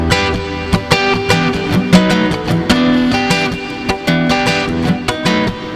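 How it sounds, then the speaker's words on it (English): Ibanez Montage MSC500MBK hybrid guitar blending a distorted electric signal with its acoustic pickup, strummed rhythmically with sharp percussive attacks and sustained chords, loud and upfront with no talking. "So you can get a distorted electric with an acoustic, and it sounds like this."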